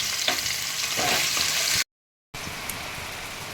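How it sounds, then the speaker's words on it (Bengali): Carrots and potatoes fry in a pan for vegetable pulao, a bright, hissing sizzle with a few stirring scrapes early on, cut by a half-second gap of silence before the crackle resumes. "আর গাজরগুলো দিয়ে দিলাম এগুলো আমি একটু ভেজে নেবো"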